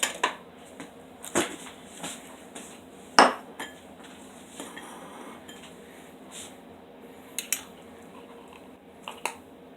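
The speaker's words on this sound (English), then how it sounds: "Let me get me a spoon here. Yeah, I better get me a bowl or something too." Kitchen utensils and dishes clink and clatter as a spoon and bowl are fetched: scattered sharp metallic and ceramic knocks, one louder clank, spaced irregularly over a quiet room background.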